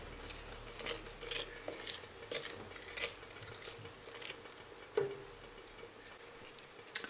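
Butter and sugar are stirred together in a bowl for chocolate raisin oat treats, giving soft, intermittent scraping and tapping strokes, quiet and close, with one sharper clink partway through.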